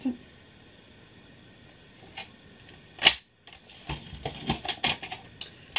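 A paper trimmer scores fold lines into card for a bud-vase-shaped greeting card, giving sharp mechanical clicks and a quick rasping stroke against quiet room tone.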